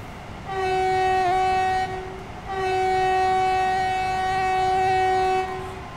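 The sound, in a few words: local train running uphill in Train Sim World 4 video game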